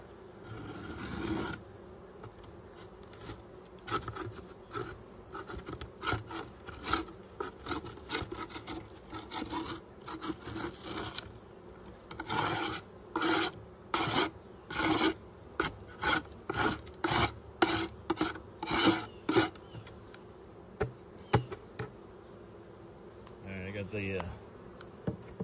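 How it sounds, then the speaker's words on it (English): A hive tool scrapes propolis off a wooden beehive inner cover in a rapid series of rasping strokes, with a steady hum of bees buzzing close by throughout. "I'm gonna scrape this inner cover."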